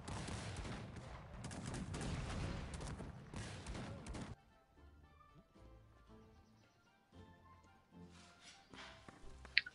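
Cannon fire from a Cossacks 3 real-time strategy battle, a dense loud barrage of booms and crackling volleys for about four seconds, then quieter battlefield ambience with scattered distant shots.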